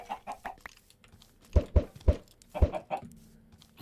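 Chickens in a pen in the video game Minecraft give a run of clucks, some soft and some sharp and punchy, in an uneven, close rhythm with no talk.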